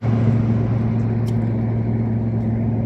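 A car driving along a road on a cold frontline trip, its engine a steady close rumble with a continuous low drone and tyre noise, unbroken throughout with no talk.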